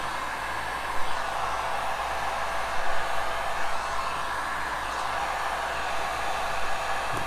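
A heat gun blows hot air steadily while working on parts during a Suzuki DRZ400SM motorcycle jet kit and exhaust install, a continuous close-up broadband whoosh holding for the whole stretch with no talk.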